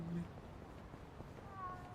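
A cat meows softly in the video game Yakuza: Like a Dragon, a brief faint cry over a steady hum of game background noise.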